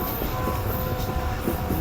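A train rumbles steadily at Tando Adam railway station in Pakistan, its broad, continuous rolling noise loud and near with no break and no voices.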